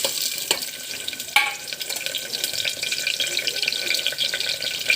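Coconut pieces fry in hot oil with shallots, onion and curry leaves for a duck curry, giving a steady soft sizzle with occasional stirring clinks close by.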